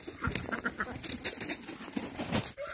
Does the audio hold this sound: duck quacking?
yes